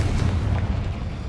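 A Confringo spell explosion in the video game Hogwarts Legacy, one short, loud, heavy boom with a deep rumbling low end that fades over about a second.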